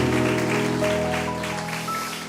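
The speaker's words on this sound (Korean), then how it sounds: "우리 서로를 향해서 격려와 축복의 박수 한 번 더 부탁드리겠습니다" A church congregation applauds together in a sustained, dense round of clapping that holds steady throughout, with soft sustained musical tones underneath.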